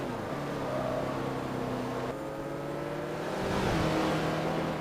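Corvette and Porsche GT2 race cars at Sebring on the straight, engines droning steadily with rising pitch through gear changes, swelling louder as they draw nearer.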